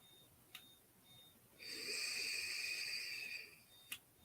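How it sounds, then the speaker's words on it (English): An alarm sounds faintly as a sustained, steady electronic tone lasting about two seconds, with brief tonal chirps and clicks before and after in an otherwise quiet room. "Melissa, I hear the alarm going off."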